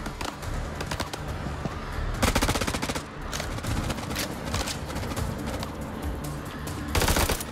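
Gunfire in the video game House of Ashes, rapid automatic bursts crackling continuously at close range, loud and dense, with sharper heavier volleys punctuating the steady shooting and no talk over it.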